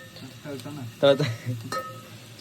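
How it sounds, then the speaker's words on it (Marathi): Onions sizzle in a pan over a camp stove at a tent camp during a Sahyadri fort trek, a steady crackling fry with a few clinks of utensils and brief voices nearby. "शुभम भाऊ आपल्याला इथं कांदा तळते दिसतंय तुम्हाला"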